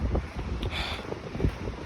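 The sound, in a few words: strong wind on the Everest Base Camp trek, Nepal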